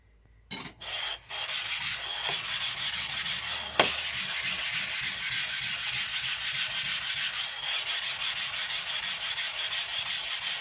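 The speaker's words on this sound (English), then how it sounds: "what I'm doing here is flattening the stone, preparing the stone" Steady, continuous abrasive rubbing as a sharpening stone is flattened in preparation for polishing a knife, close and even after a few brief scrapes at the start, with no speech.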